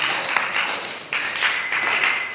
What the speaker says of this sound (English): Clap it up for Amanye.